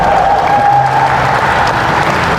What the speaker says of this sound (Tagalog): Parang walang buhay ang palakpak niyo sa Lord.